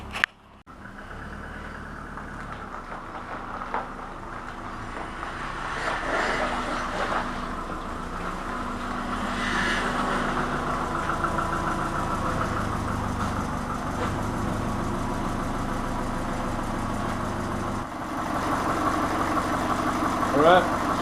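A car engine runs steadily as the car is driven nose-first into a garage, a low continuous hum that swells slightly midway and holds fairly close throughout.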